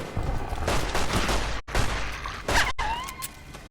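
Gunshots from the player's weapon in Fallout: New Vegas, a few loud close bursts separated by brief silent gaps, with reverberant tails and some ringing after the last shots.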